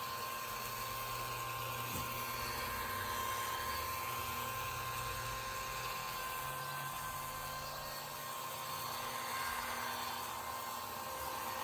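A power polisher buffing the hood of a Buick, a steady mid-level motor whine that holds evenly throughout with slight swells, no speech.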